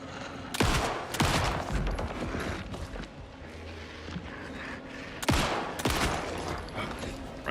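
Gunfire in Alan Wake 2, sharp loud shots in two clusters, a few rapid blasts early on and another burst later, with rumbling background between them.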